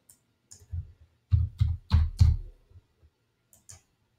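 A computer mouse clicks sharply a few times while an administrator edits settings in a web portal, crisp close clicks spaced out with faint lighter taps between them.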